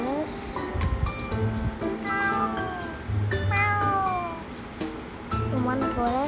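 A cat meows repeatedly in a Roblox game, with a series of rising, drawn-out calls spread across several seconds, mixed with surf-like background noise, clicks and a person talking.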